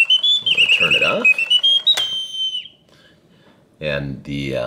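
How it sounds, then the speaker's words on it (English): Air from the top bellows chamber of a vintage Reuge singing bird cage escapes through its whistle as it shuts off, a fading gliding whistle followed by near silence and a burst of low talk. "what you heard at the end was the air in the top chamber of the bellows escaping through the whistle when I turned it off"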